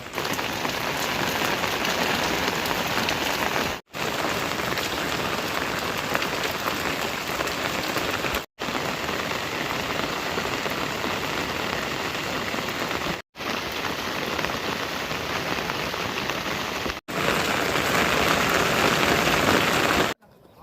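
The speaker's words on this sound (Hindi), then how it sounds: "बारिश देखो बहुत ज़्यादा तेज़ लग गई है" Very heavy rain pours down in a dense, loud, unbroken roar of drops, interrupted only by a few abrupt cuts lasting a split second each.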